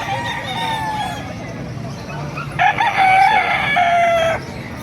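Roosters crow loudly nearby at a market in Bocaue, one long crow standing out, with chickens clucking and faint voices murmuring in the background.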